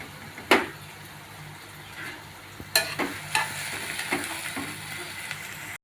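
Curry leaves, onions and slit green chillies fry in a pan for a prawn gravy curry, giving a soft steady sizzle broken by a few sharp utensil clinks and stirring scrapes, with no talking.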